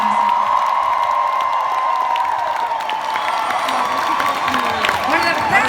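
Concert crowd at a show applauding and cheering for the opening band, a loud, sustained roar of clapping, whoops and shouts that continues throughout, with a voice faintly audible under the noise.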